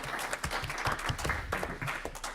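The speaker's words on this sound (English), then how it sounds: "So let's have a round of applause for Bruno." A university audience at a student Q&A with Brighton & Hove Albion FC gives Bruno a dense round of clapping that fills the short span at steady loudness, with no talk over it.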